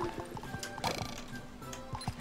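A horse in a SpongeBob video game gives a whinny among clip-clopping hoofbeats, set against busy game sounds and music.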